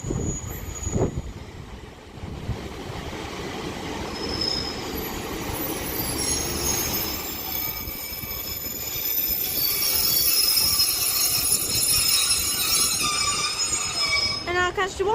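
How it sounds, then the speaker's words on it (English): Northern class 150 and 156 diesel units departing Liverpool South Parkway station, a loud, continuous rumble of wheels and engines that builds, with high wheel squeal toward the end and a voice briefly heard. "Now departing is going to be 150, 118 and 156."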